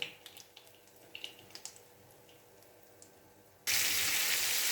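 Fish pieces for a masala fish curry frying in oil, a soft crackle with a few scattered pops that swells into a loud, steady hiss of sizzling near the end, with no talking.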